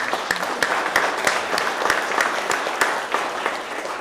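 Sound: audience applause on Veterans Day

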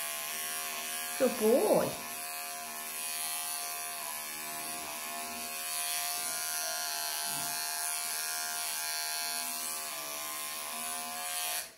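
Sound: electric clippers clipping matted fur off a longhaired cat

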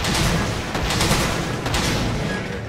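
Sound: Normal S ammo gunfire ricocheting underwater in Monster Hunter 3 Ultimate video game

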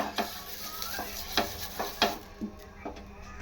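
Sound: onion frying on a griddle pan

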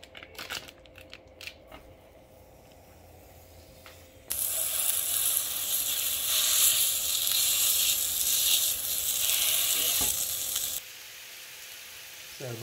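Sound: sausage sizzling while cooking in a pan

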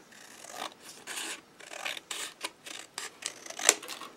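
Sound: cutting paper bag topper with scissors

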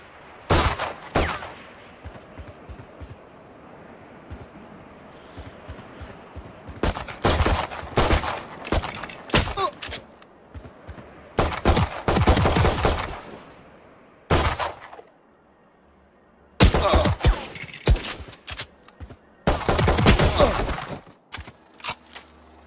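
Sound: gunfire at targets in video game VALORANT

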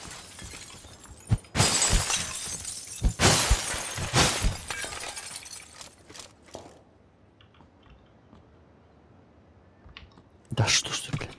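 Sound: glass being broken in a video game

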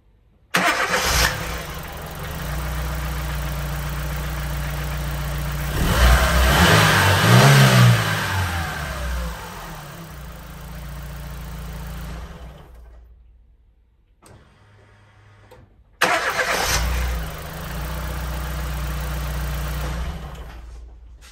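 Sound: car engine starting and revving

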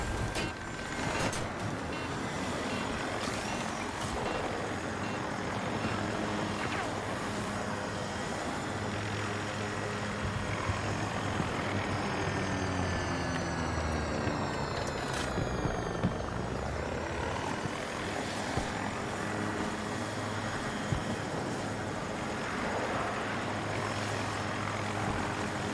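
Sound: helicopter flying overhead in video game Battlefield 2042

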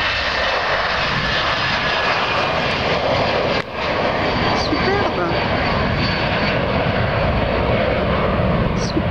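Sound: airplane taking off at night from Geneva Airport

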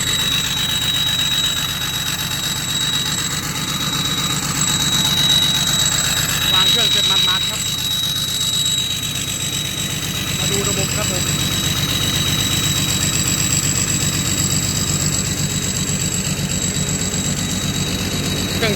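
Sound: new six-cylinder engine running a well-drilling pump

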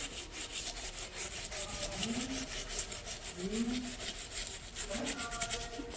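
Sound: scrubbing an electrical switchboard to clean it

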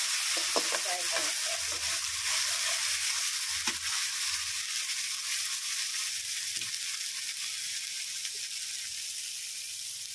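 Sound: spinach paste frying in a pan

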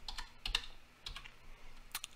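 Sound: typing on a computer keyboard one-handed

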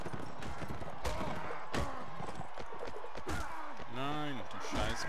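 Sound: horse hooves in Mount & Blade Warband video game

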